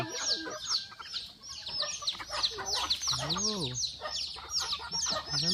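A flock of farmyard chickens at a grandfather's farm clucks and chirps busily and continuously close by, with a voice briefly exclaiming over them.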